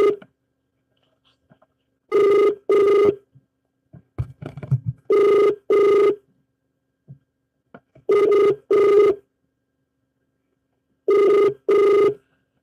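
Telephone ringback tone during an unanswered phone-in call, repeating in paired bursts every few seconds, loud and clear with silent gaps and a brief rustle between rings.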